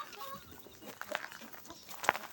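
Chickens wandering a yard outside their coop in the cooler evening air, giving a few faint, scattered clucks against a quiet background.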